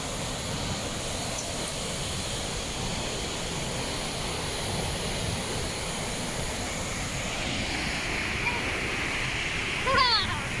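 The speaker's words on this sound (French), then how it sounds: "On a réussi à arriver à la cascade." Kursunlu waterfall pours hard with muddy rainwater, a loud, constant broadband roar of rushing water that fills the whole stretch, with a brief chirping sound near the end.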